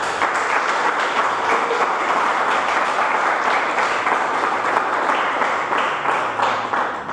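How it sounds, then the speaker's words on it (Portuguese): Sustained applause from a church congregation, dense clapping filling the space at an even level for several seconds. "Aplauda ao Senhor Jesus."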